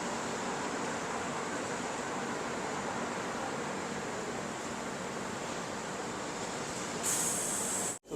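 The Ramayan Express rolls on after leaving platform 7 at Nagpur station, giving a steady, loud broadband rumble and hiss from inside the carriage that holds evenly for about seven seconds and then cuts off abruptly.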